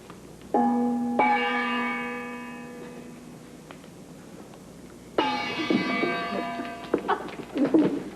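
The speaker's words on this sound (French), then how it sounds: "Et pourquoi ces coups de gong?" Two resonant gong strikes about four and a half seconds apart, each ringing out with a sustained, slowly fading metallic tone; the second is followed by a few faint light knocks as it decays.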